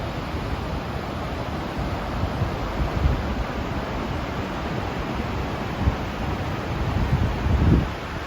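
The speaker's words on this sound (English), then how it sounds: "loud, rushing water sounds" Loud, steady rushing water below the High Bridge, a broadband roar that stays constant throughout with slight surges near the end and no voices.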